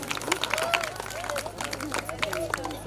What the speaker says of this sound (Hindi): एक बार ताली बजाओ उसके नाम की।